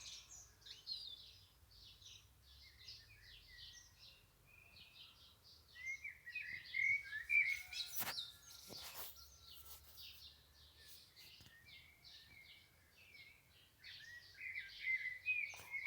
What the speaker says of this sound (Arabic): شوفوا واحد الطيور، واحد الأصوات تاع الطيور هادو تاع الفجر، أنا سميتهم طيور الفجر، عندهم واحد الصوت ما شاء الله